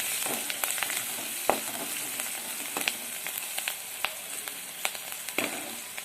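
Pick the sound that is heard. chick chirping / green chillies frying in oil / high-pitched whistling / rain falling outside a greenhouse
green chillies frying in oil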